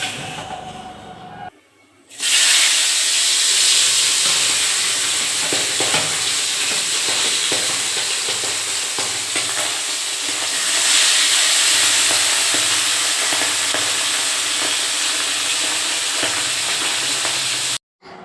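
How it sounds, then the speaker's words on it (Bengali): Fish rubbed with salt and turmeric drop into hot oil in a wok, bursting into a loud, steady, hissing sizzle that holds for about fifteen seconds before cutting off. "কড়াইতেও দেখো তেল গরম করতে দিয়ে দিয়েছি এবার মাছগুলোকে একে একে ছেড়ে দেবো"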